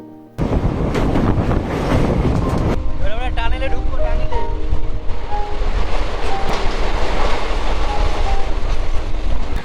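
Passenger train running on rails between Siliguri and Lataguri through forest, heard from on board as a loud continuous rumble with rhythmic clatter, wind noise and squealing wheel tones.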